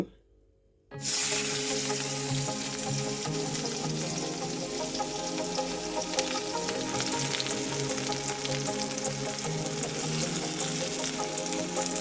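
Onions and green chillies fry in a few spoonfuls of white oil, a loud, steady, crackling sizzle that starts abruptly after a second of near silence and holds continuously close by.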